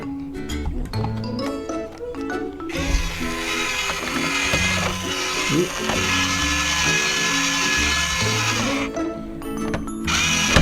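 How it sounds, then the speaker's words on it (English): Plastic parts of a toy fire truck construction kit click and ratchet as the hood is screwed on, a busy, close clatter of turning and rattling with toy music or electronic tones playing loudly throughout. "so now we need to screw the hood on"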